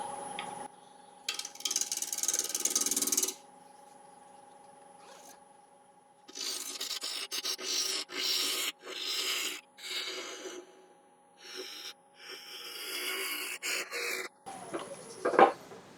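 A wood lathe spins a spalted beech bowl at about 1000 RPM while a 10mm ball gouge cuts it, making rough scraping and rasping bursts that come in several separate passes with short quiet gaps between them.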